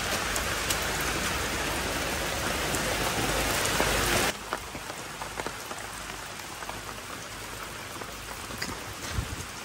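Heavy rain pouring steadily through a Leyte forest, a dense loud hiss of drops that drops somewhat in intensity partway through, with scattered closer drip impacts.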